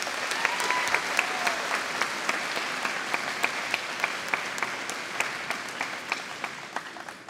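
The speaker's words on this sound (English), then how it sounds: "So can first of all give a huge round of applause to Miss Eileen Lohan." An audience at a school graduation ceremony gives a sustained round of applause for a staff member. The clapping is dense and steady, with sharp individual claps standing out throughout.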